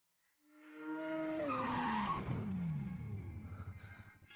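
Toyota AE86 race car on a circuit, tires squealing loudly as it brakes and corners, engine note dropping then surging as it accelerates out, close and continuous without speech.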